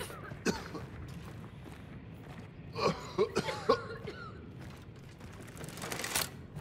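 A character in the video game Hunt: Showdown coughs in a short cluster of hoarse bursts near the middle, heard at moderate loudness over quiet ambient game noise with scattered clicks and thumps.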